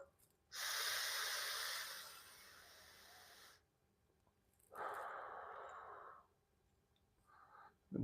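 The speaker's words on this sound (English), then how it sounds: "And you take about 3 deep breaths." Slow deep breaths taken while recovering from a foot injury: one long airy inhale and exhale, then a second shorter breath and the start of a third, close to the mic and alone.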